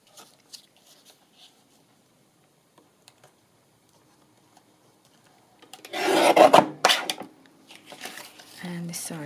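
Paper for a journal accordion insert, still slightly wet, is trimmed with a burst of scraping, rasping cuts after a quiet stretch, close and fairly loud, then softer rustling handling.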